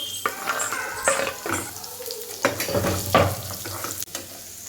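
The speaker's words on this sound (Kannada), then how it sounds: "ಅದು ಸೇರಿಸ್ಕೊಂಡು ಗೋಲ್ಡನ್ ಬ್ರೌನ್ ಬರೋವರೆಗೂ ಹುರ್ಕೊತಾ ಇದ್ದೇನೆ." Onion frying in tempered oil for paneer butter masala, stirred until golden brown: close sizzling broken by scraping spatula strokes and clanks against the pan, loud and uneven, with no voices.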